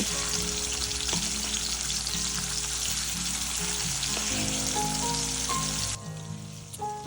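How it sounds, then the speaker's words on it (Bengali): Salt-and-turmeric-coated prawns fry slowly in hot oil in a kadai, a dense, steady sizzle running close and loud with a few light clinks, easing off noticeably near the end. "এবার কড়াতে তেল নিয়ে আস্তে আস্তে চিংড়িগুলো ভেজে নেব।"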